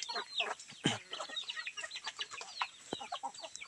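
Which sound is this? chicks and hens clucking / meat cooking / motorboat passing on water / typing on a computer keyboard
chicks and hens clucking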